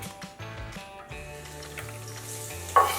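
Clams in a stir-frying pan sizzle and crackle steadily, a close, continuous frying hiss with occasional stirring clatter and a brief sharper scrape near the end.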